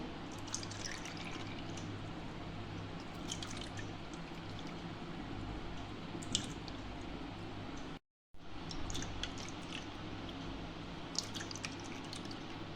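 Juice being poured into kulfi moulds, a steady close trickle and dripping with occasional small plinks, continuous apart from a brief cut, no voices.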